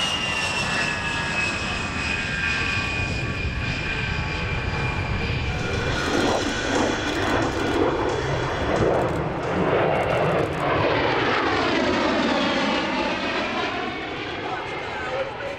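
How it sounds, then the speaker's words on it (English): An A-10C Thunderbolt with two externally mounted General Electric TF-34 turbofan engines flies past at the EAA AirVenture Oshkosh airshow, a loud sustained engine roar with a sweeping pitch shift as it passes overhead. "It's a distinctive looking plane with its straight wings and its two externally mounted General Electric TF-34GE-100A engines"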